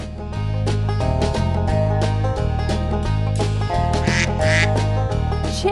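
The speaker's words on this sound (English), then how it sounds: "duck" A cartoon duck quacks over bouncy, steady children's game music in a farm animal stacking game, the quack sitting loud and close amid the looping tune.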